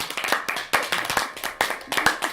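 A small group of game players clapping, with separate hand claps in an uneven, sparse rhythm, close and moderately loud, lasting a couple of seconds.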